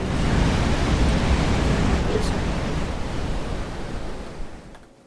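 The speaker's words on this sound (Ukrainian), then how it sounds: "О, велика хвиля" A big tsunami wave in the Roblox Tsunami Game comes through as a loud, broad rushing roar like crashing surf. It holds steady and then slowly fades away.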